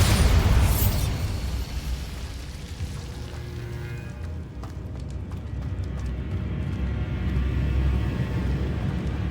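A Bombarda spell detonates in the Hogwarts Legacy video game, a loud booming burst right at the start that fades into a lingering rumble and low ambient game noise.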